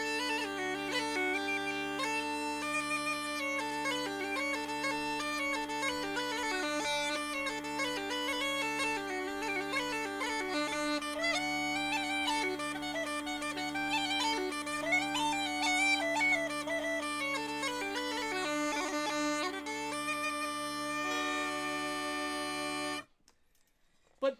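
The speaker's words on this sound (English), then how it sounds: "Paddy had somehow gotten himself a set of Irish bagpipes" Irish bagpipes play the lively dance tune The Black Rogue, a steady droning bass beneath a continuous ornamented melody. It is loud and close throughout and stops abruptly near the end.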